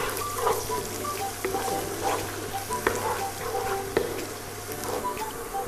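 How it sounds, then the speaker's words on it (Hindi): Two finely chopped onions sizzle steadily in a pan with a little garlic, a continuous close frying hiss with occasional crackles and light stirring taps. "तो ये बारीक कटे हुए 2 प्याज हैं, ये डाल देंगे। अब इसको ब्राउन होने तक फ्राई कर लेंगे।"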